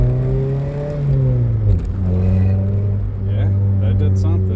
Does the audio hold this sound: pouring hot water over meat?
no